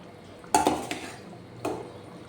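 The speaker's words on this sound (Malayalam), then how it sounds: "നല്ലവണ്ണം തിളച്ച് എണ്ണ ഇതുപോലെ തെളിഞ്ഞ് വന്നു കഴിഞ്ഞാൽ നമുക്ക് മീൻ കഷ്ണങ്ങൾ ചേർത്ത് കൊടുക്കാം" A few close clattering knocks of fish pieces dropped into a metal pan of hot oil, with a sharper clink at the start and another thump a second later. No speech.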